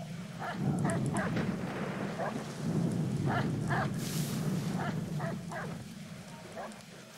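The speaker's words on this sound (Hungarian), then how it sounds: "Már megint egy kurva kutya!" A dog in Assassin's Creed III barks in short repeated bursts, fairly close, over a steady rumbling ambient bed of weather-like noise.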